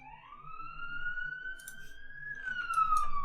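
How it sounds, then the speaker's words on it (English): A single wailing siren rises and slowly shifts pitch in the distance, steady and fairly faint, with light clicking noises underneath. "Sorry if you can hear the sirens in the background."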